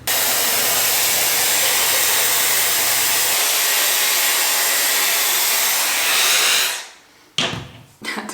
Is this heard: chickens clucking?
no